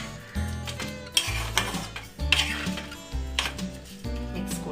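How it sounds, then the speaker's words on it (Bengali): Rice being stirred with potato and chicken in a pot for Anglo-Indian pishpash, heard as close, repeated scraping strokes of a spoon through the grains over a faint sizzle, in an uneven rhythm with no talking. "এবার আমি একটু চালটা এই আলু এবং এই চিকেনের সাথে এটাকে ভালো করে একটু মিক্স করে নেব"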